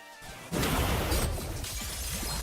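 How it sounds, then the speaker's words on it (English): A shatter effect from the Roblox game Blox Fruits bursts in suddenly after a quiet moment, a loud crashing break followed by a sustained, crackling wash of debris-like noise with no talking. "Oh, it does that little shatter effect."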